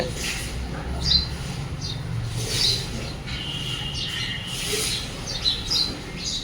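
House sparrow calling while building a nest, several short high chirps scattered across the clip, fairly faint and close, over a quiet outdoor background with no talk.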